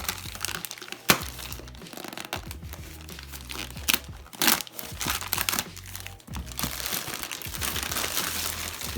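Paper packaging from a Bird UM1 USB microphone box is crumpled and crinkled continuously up close, with dense irregular rustles, sharp crackles and a few louder tearing bursts, and no talking.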